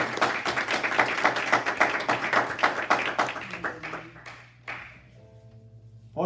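A church congregation claps in a fast, rhythmic unison beat during a worship service; the clapping slows and thins out partway through, leaving scattered claps and a soft sustained keyboard tone.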